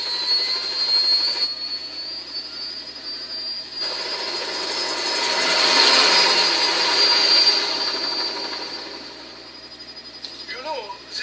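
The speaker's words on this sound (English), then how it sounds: "Commencing takeoff in semi-auto mode." Aircraft jet engine taking off in the Metal Gear Rising video game, a broad, loud whooshing roar with a high whine that swells in the middle and then fades, under a game voice.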